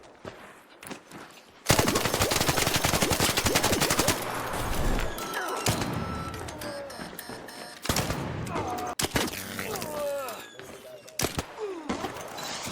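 Video game gunfire in Arc Raiders while the player jumps and shoots: loud, rapid bursts of automatic fire with sharp repeated shots and short pauses, dense and close throughout.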